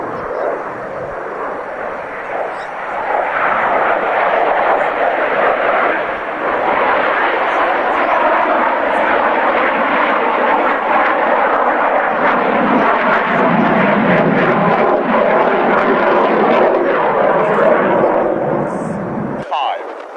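A Royal Navy all-weather fighter jet, radar and missile armed with no guns, sweeps past low in front of hills. Its engines build to a loud, broad roar that swells and sustains for many seconds, while a voice talks over it.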